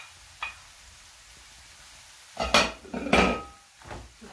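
Chicken breast pieces are stirred in a pot, giving a faint clink early on and then a few louder scraping, clattering utensil strokes against the metal in quick succession.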